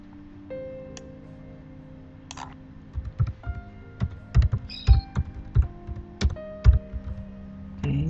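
Typing a phone number on a computer keyboard while designing a business card in Adobe Illustrator CC 2015: a steady series of distinct, close key taps after a quiet start, over faint background hum.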